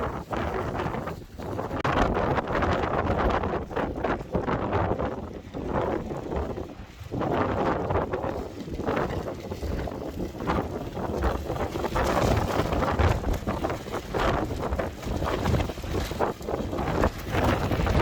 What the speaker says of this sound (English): I'm sorry about the wind noise,